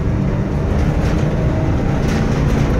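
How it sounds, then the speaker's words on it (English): A 2006 Ford E-250 three-quarter-ton work van engine held at half throttle, a loud, steady droning roar with heavy low rumble and no talking. "This is half throttle right here."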